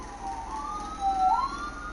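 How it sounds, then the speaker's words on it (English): A real-world emergency siren wails in the background during an MLB 19 The Show session, one rising and falling tone sweeping over a steady hum. "We have a siren."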